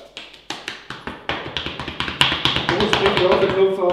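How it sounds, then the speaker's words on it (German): Hands pat and tap all over a person's body as a wake-up exercise after long sitting: a steady rhythmic run of sharp close slaps that speeds up and thickens while someone talks over it. "Einfach mal den ganzen Körper ein bisschen durchklopfen, dass man munter wird."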